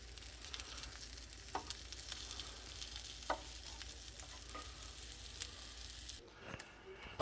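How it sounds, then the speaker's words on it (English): Sausages sizzle softly and steadily in a pan, a faint crackling hiss with occasional clicks and light stirring. "That sound, of course, is the sausages actually cooking"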